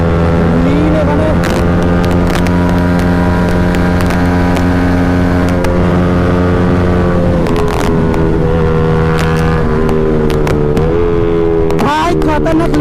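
A KTM Duke 390 motorcycle rides at high speed, past 120, with a loud, constant engine drone and a strong tonal whine, which shifts in pitch near the end under heavy wind rush.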